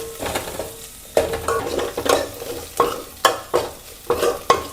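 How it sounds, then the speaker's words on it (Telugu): Rasam spice mix is stirred in a frying pan on the stove, with a steady run of about eight sharp scraping strokes over a soft sizzle, close and fairly loud, with no talking. "ఇది వేసి కొద్దిగా 2 minutes కలపండి."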